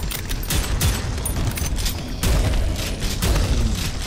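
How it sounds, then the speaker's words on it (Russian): Rapid shotgun blasts fire in the Prodeus video game, with about a dozen loud booming shots and explosions packed into a few seconds, hard and close with no voice. "И дробовик весьма хорош."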